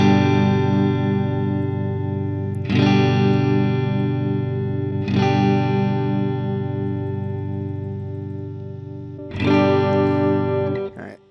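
An electric guitar played through amp simulation software on a simulated 1x12 cabinet rings out in sustained, distorted chords, struck four times and left to ring out, loud and close with no voice over it.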